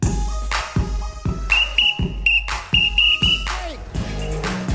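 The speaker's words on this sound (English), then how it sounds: "you running all the men off with that doggone whistle" A whistle is blown in several short, shrill blasts in a lively studio with music and crowd noise, each toot sharp and loud over thumping beats and cheering.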